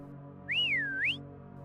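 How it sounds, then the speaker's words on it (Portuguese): A single human whistle at night near a forest campsite, rising, dipping and sliding back up, clear and fairly close against a quiet low background hum. "O assobio parecia bem mais próximo que da noite anterior."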